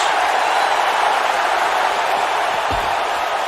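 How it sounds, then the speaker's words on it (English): A wrestling crowd cheers in the WWE 2K19 video game, an even, continuous roar of massed voices filling the whole stretch, loud and unbroken. "you can hear the crowd still loving this match"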